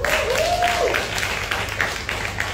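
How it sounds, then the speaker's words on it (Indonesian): Applause from a campus audience at a university talk event at UPJ Bintaro, a broad sustained wash of clapping lasting a couple of seconds, fairly loud and even, with no talk over it. "Tepuk tangan."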